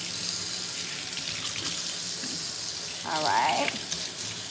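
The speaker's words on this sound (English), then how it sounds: "now I'm going to go ahead and rinse the shampoo out" Running water rinses shampoo out of fine natural hair at home, a steady broadband rush that swells louder near the end, with a brief spoken voice.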